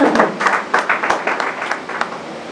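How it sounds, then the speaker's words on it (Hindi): Applause from a seated audience welcoming a guest at a journalists' association event, a dense wash of many hands clapping steadily and fairly close, with scattered sharper claps standing out, and no talk over it. "जोरदार तालियों से इनका स्वागत करें"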